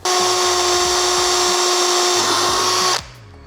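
A power drill whines steadily at high speed for about three seconds, close by, drilling holes in a two-piece car body kit, then cuts off abruptly.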